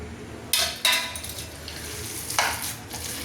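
Chopped onion and four or five green chillies being mixed by hand for piyaji, giving a few soft, wet stirring and squishing bursts, close and fairly quiet, with no talking.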